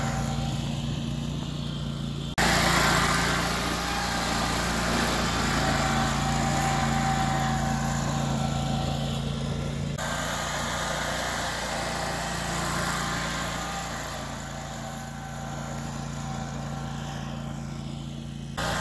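Zero turn mower engine running steadily as the machine drives and turns on a lawn, a continuous droning hum with slight shifts in pitch and level, fairly close.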